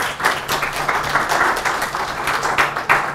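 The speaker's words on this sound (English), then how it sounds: "So if we have an applause for Chris." Audience applause for a presenter at a Drupal and CiviCRM talk, a dense, steady wash of clapping from a room of people lasting about three seconds with no speech over it.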